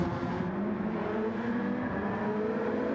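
A Peugeot endurance race car at a World Endurance Championship round, its engine a continuous loud whine and roar as it runs along the track, with no voices over it.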